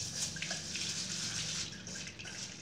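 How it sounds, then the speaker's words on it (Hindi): Moong dal being rinsed in a strainer under running water, a steady splashing, trickling flow close by with small bright drips and no voices. "मूंग दाल को भिगोना नहीं है, सिर्फ धोना है इसको अच्छी तरह"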